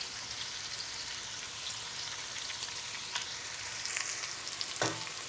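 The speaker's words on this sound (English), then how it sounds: "So keep stirring and getting all these beans stir fried" Onions and green beans stir-frying in olive oil give off a steady, even sizzle close to the pan, with occasional soft clicks and scrapes from stirring and a brief louder knock near the end.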